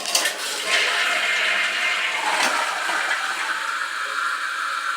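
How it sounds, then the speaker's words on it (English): A Kohler Class 5 AquaPiston toilet flushes, dumping half its tank in a loud rushing gush of water that starts abruptly and then settles into a steady, hissing flow close by. "So now we'll flush it, and I'll show you that it dumps half the tank"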